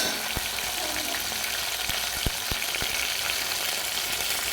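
Tempering crackling in hot oil, a loud, steady frying sizzle broken by several sharp, scattered pops.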